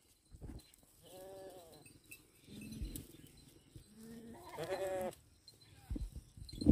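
Goats bleating on a goat farm in Shadiwal, several wavering calls spread across the moment, some near and loud, with brief sounds of animals moving between them.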